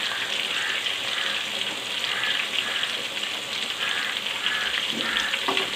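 Chicken sizzling and frying steadily in a pan for a dehgi steam roast, a dense continuous crackle held close and even throughout, with no talking.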